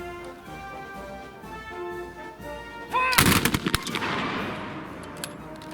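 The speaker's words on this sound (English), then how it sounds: "With the volleys complete" Muzzle-loading muskets fire a volley at a Crimean War militaria shoot, as a single loud ragged burst of overlapping close shots that fades into a rumbling echo, after a quiet stretch with faint background voices.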